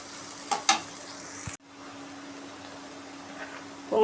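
Crushed garlic and curry leaves frying in a pan with okra for an egg stir-fry, a steady close sizzle with a couple of brief clinks early on, then a quieter continuous hiss.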